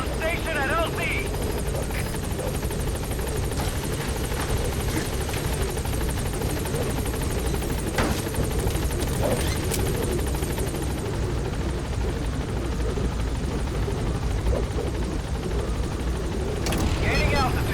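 The Pequod helicopter in Metal Gear Solid V hovers at a landing zone, its rotor thumping and turbine whine loud and continuous throughout, with a voice speaking over the noise.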